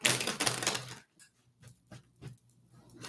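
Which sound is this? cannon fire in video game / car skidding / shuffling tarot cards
shuffling tarot cards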